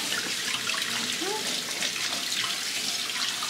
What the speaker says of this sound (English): And then we're just going to rinse it.